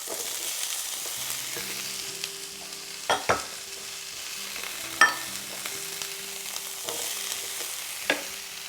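Peppers frying in a pan for ratatouille, a soft continuous sizzle with occasional scraping stirs and utensil taps, nearby and unaccompanied by voices.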